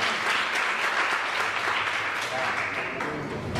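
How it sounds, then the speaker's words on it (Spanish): Strong, sustained applause from a large audience at a human rights course, a dense steady wash of clapping that fills the whole moment without letting up. "Recibámoslo con un fuerte aplauso."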